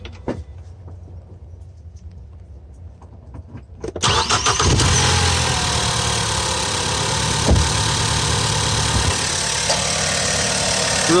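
A 2014 Ford Focus SE with a naturally aspirated engine and a newly fitted oil catch can cranks briefly and fires up, then settles into a steady, even idle heard close by for several seconds, with no one talking.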